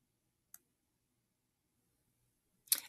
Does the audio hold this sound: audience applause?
no